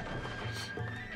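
Horse neighing in the Samurai Warriors 2 video game during a castle siege battle, a short whinny rising over busy game noise, close and fairly clear.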